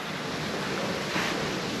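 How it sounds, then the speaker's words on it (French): Wind blows across a fishing lake in a steady, soft rushing hiss that swells slightly for a moment, with no voices heard. "On a un vent qui s'est levé"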